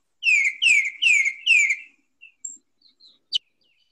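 A tufted titmouse gives four loud, descending whistled notes in quick succession, followed by a few faint, scattered short chirps against silence.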